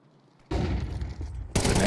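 Grenades explode in a Counter-Strike 2 match on Overpass, a sudden loud burst after a quiet start, then a second harsh blast near the end, with the action dense and chaotic.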